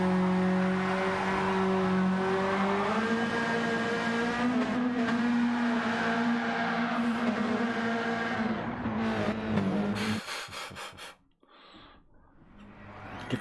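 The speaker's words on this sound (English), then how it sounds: "somebody's burning some tyres out somewhere" Race car tyres burning out at Mount Panorama in a racing video game, a rising engine drone with sustained tyre squeal lasting about ten seconds, then cutting to short bursts of revving.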